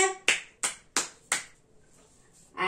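Four sharp, evenly spaced hand claps ring out close and alone, the way a cook slaps chapati dough between her palms in a kitchen, followed by a brief pause and the start of another clap.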